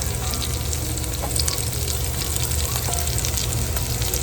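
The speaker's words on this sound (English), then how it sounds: "they're just cooking on medium-high heat with some olive oil in the pan" Food frying in olive oil in a pan over medium-high heat gives a close, continuous sizzle with crackling pops and occasional stirring, steady and fairly loud, with no talking.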